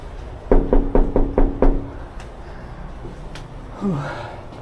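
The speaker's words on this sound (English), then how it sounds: "Let's go knock on his door." A knock on a house door: six quick, evenly spaced raps, loud and close, followed by quiet outdoor ambience and a faint voice.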